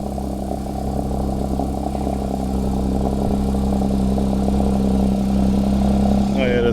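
A car idles at a supercar show with Ferraris and Porsches, a loud, steady, low rumbling engine note that rises slightly in pitch midway and ends with a brief sharper clatter.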